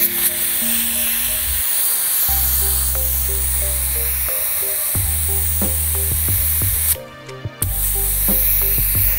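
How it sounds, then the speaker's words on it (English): Compressed air hisses steadily while pressure is set in a Honda dirt bike tire, running almost without a break and cutting off briefly near the end, with background music underneath. "And so now we're gonna set pressure."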